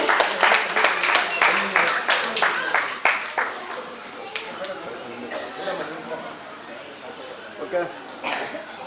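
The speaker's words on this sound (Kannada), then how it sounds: "ಒಂದು ಜೋರಾದ ಚಪ್ಪಾಳೆಯ ಮೂಲಕ ಅವರನ್ನ ಅಭಿನಂದಿಸಬೇಕು" Audience applause at a dance trust's tenth-anniversary ceremony, a burst of many hands clapping that rises briefly, then thins into scattered claps amid murmuring crowd noise and a cough or two.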